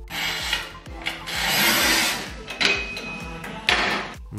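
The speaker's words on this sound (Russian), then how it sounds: "Выставили размер и режем." DLT MAXLINE manual tile cutter scoring tile, a loud close grinding rasp as the wheel is drawn along, with sharp clunks and knocks of the sliding mechanism in between, no talking.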